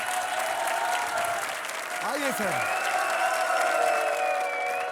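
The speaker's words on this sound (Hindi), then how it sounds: "जोरदार तालियां इनके लिए।" Loud studio audience applause for a guest on a Hindi comedy show, sustained clapping and cheering over a music bed, with a brief spoken greeting from the host partway through.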